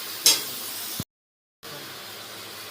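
Dry ground spices going into hot oil over ginger and green chilli paste while stir-fried, giving a steady hiss with a brief sharp burst near the start, then a sudden gap of silence before the sizzle resumes.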